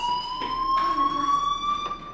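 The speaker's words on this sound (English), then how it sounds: "do you hear that fire alarm? That means you should be outside." A fire alarm rings in the video game Life Is Strange, a steady electronic tone that holds for the whole stretch, loud and continuous, with faint game ambience beneath.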